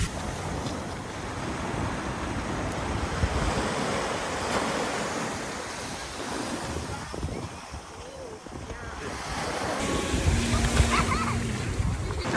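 Ocean surf rolling onto a beach in the Dominican Republic, a continuous broad wash of waves with swelling and receding surges, close and fairly loud, with a person talking over it.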